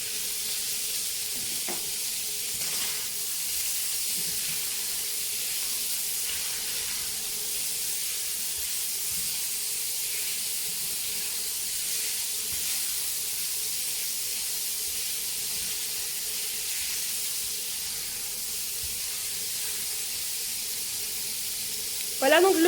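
Salmon pieces cooking in a pan give a steady, even sizzle and hiss that runs unbroken for over twenty seconds at moderate level, with a brief louder clatter at the very end.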